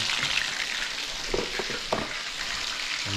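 Dalagang bukid fish fry in hot oil in a home kitchen, a steady crackling sizzle with a few brief stirring or turning clatters partway through, close and moderately loud.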